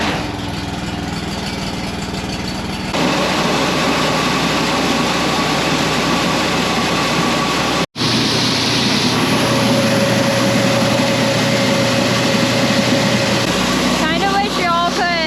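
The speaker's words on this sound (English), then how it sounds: "Well, start your auger." A grain bin auger motor starts up and runs outdoors in freezing cold, a steady loud mechanical drone that kicks in after a few seconds, briefly cuts out near the middle, then resumes with a rising whine toward the end.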